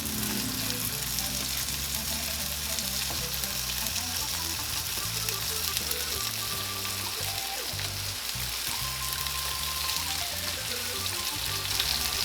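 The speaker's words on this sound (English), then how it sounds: "I did add a little bit of canola oil into this skillet as well to kind of help them cook a little bit" Cajun alligator and pork sausage frying in canola oil in a skillet, with a steady, dense sizzle and crackle that stays close and even from start to finish, with no talking.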